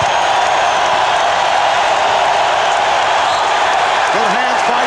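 Crowd noise from a packed basketball arena during an NBA Finals game between the Bulls and Sonics, a steady loud roar throughout with a voice speaking over it near the end.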